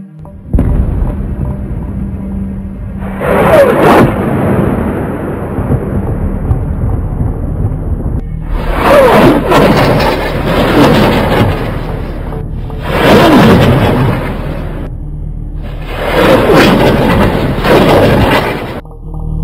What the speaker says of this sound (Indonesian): Suara roket itu tampak bersaut-sautan dengan sesekali disertai bunyi ledakan.